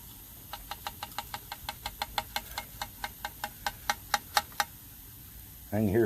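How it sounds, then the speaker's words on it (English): Loose debris shakes inside a lawnmower fuel tank under repair, giving a close run of about twenty sharp rattling clicks that speed up and grow louder, then stop, followed by a brief start of a voice. "I can hear some stuff rattling around in there"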